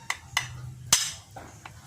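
A knife blade is hammered into a homemade wooden handle: four sharp knocks at uneven intervals, the third loudest, each short and bright with brief ringing, over a low steady background hum.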